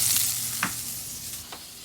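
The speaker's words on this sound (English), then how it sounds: "we're sauteing the green onions for" Green onions sautéing in a hot pan, a bright steady sizzle with a few soft scrapes and clinks of stirring, close and continuous, no speech.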